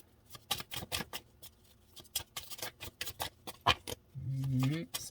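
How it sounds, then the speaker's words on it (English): Playing cards riffled and shuffled close up in a quiet room, a run of quick papery flicks and taps, with a short voiced murmur near the end. "I'm going to shuffle this real quick"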